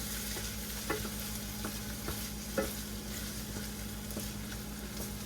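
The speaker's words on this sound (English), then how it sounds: "So you want to just stir this in so you can actually smell it." Onions and venison sizzle steadily in a hot pan while a spoon stirs through them, with a few sharper scraping clacks against the pan over the constant frying hiss; no one speaks.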